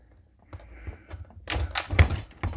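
A CE140 charger enhancer box being hooked up to a battery gives a short cluster of dull, close thunks and clacks, with the loudest knock near the end and no talking.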